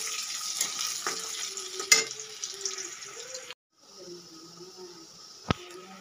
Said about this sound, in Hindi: पियाज पकई